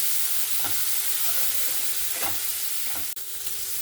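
Prawns frying with onion in a pan for a Bengali Malabar spinach seed curry, giving a steady broad sizzle with a few soft stirring scrapes and a sharp tap near the end, no voices.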